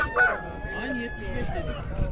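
Ducks and geese at a poultry market in Kırıkkale give short honks and quacks close by, mixed with murmured voices and market bustle.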